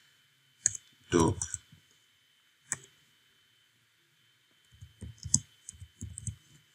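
Sharp computer clicks and brief keyboard taps at a desk while a web browser is used, a short burst near the start and a cluster near the end, with a voice speaking between them.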